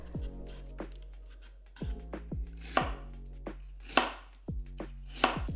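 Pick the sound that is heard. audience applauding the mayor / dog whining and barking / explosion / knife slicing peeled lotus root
knife slicing peeled lotus root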